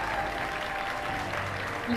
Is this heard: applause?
yes